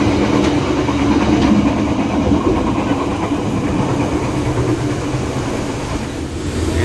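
Steady, loud rumble and rattling of the Mutiara Timur passenger train on the Surabaya–Banyuwangi line, heard from inside the dining car, with continuous wheel-on-rail noise and faint clatter throughout and no talking.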